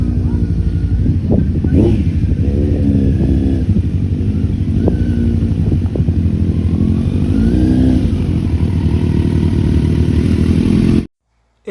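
A big bike motorcycle rides along close by, its engine droning steadily with several revving surges and a rattling undertone, loud and continuous until it cuts off abruptly near the end.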